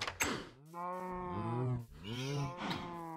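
Two long, deep cow moos from Minecraft, one after another and close up, each a drawn-out lowing call with no talking over them.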